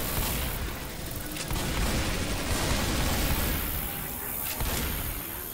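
Gunfire in the video game Left 4 Dead with Christmas mods, a loud, dense burst of shots and booms running throughout without pause.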